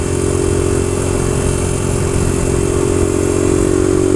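Suzuki DR-200 motorcycle ridden with braking and turning, its engine a steady, loud mid-pitched drone running continuously close by, with no voices over it.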